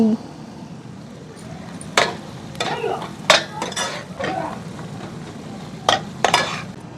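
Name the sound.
chicken pickle frying and being stirred in pan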